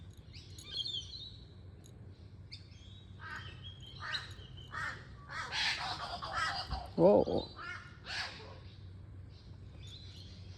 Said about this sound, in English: It's a kookaburra being chased by a crow.